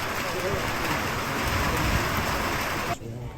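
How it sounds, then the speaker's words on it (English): Heavy rain pours down at a football match, a dense, steady wash of hiss and patter that stays constant, then drops away abruptly near the end. "The rain was starting to come down really hard at this point."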